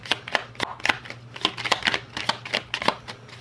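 Tarot cards shuffled close up in a quick run of crisp slaps and flicks, rapid uneven clicks of card edges striking one another throughout, with a faint low hum behind.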